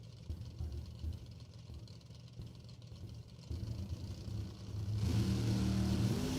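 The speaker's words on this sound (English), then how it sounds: "Mopar making their way down the racetrack" Mopar muscle cars, new and old, running down a drag strip at a drag racing event, with a faint distant engine drone that swells into a louder, steadier roar near the end.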